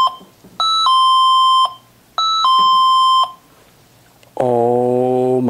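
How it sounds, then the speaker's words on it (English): Electronic alarm chime from a motion detector sounding in a building: two repeated two-tone ding-dong chimes, loud and close, followed by a sustained harsh buzzing tone at the end. "Is that the motion detector we just put upstairs?"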